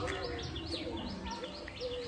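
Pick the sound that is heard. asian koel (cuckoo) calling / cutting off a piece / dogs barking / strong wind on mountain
asian koel (cuckoo) calling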